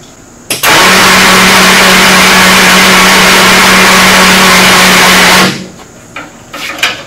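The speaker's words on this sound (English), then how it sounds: "let this winch run for a little while. Because what you're doing, you want to warm this motor up" Quadboss ATV electric winch motor running steadily for several seconds, a loud sustained whine with a constant hum, starting and stopping abruptly, followed by faint handling noises.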